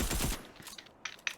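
A video game SMG fires a short, rapid burst at the start, followed by a few faint scattered shots and clicks.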